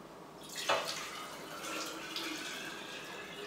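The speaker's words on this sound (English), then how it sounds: "So from here you just pour it in." Water kefir poured from a container into bowls in a home kitchen, a soft close splash and trickle that quickly settles into a faint, steady pouring wash.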